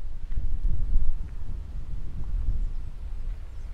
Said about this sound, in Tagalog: Medyo mahangin po yung paligid po dito.